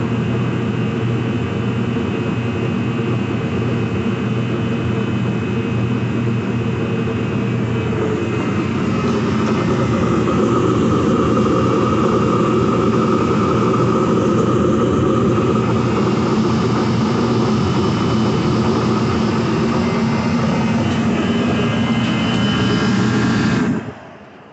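Procom Magnum forced air heater, rated 80,000 to 110,000 BTU and burning diesel fuel, roaring steadily with a loud continuous blower and combustion rumble that holds alone for about 24 seconds before cutting off abruptly.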